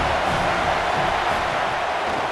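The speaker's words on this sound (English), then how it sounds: "This crowd rising up," A stadium crowd in the EA Sports College Football 27 video game roars in a steady, loud, unbroken wash of noise through the whole moment, with no clear voice on top.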